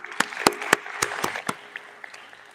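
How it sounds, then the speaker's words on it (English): Audience applause at a BRICS disaster-management meeting, a scattered patter of individual claps with a few sharp, close ones standing out, tapering off over about two and a half seconds. "Another round of applause for him, please."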